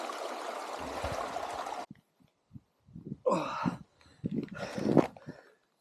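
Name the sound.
water trickling from a mountain stream being collected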